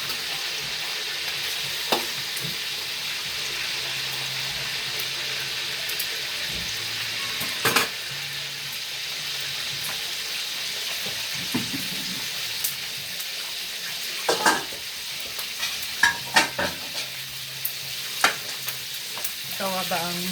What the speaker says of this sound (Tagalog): habang nag-prito tayo, ayan na oh, mabilis na maluto, madali na maluto